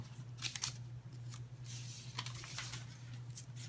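Scissors snip through a strip of paper in several quick, crisp cuts close by, over a faint steady low hum.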